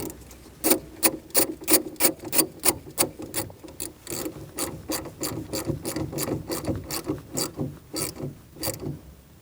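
Ratchet wrench tightening the negative battery terminal clamp on a 2016-2019 Chevrolet Cruze, a rapid run of sharp, close clicking strokes in quick bursts with brief pauses, no talking.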